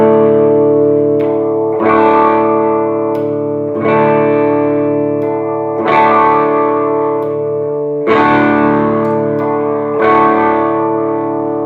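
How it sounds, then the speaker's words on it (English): Heavily distorted electric guitar through a DiMarzio Super Distortion bridge pickup rings out in five sustained chords, each struck about every two seconds and left to ring loud and thick. "I'm going to go to the bridge all the way to the Super Distortion."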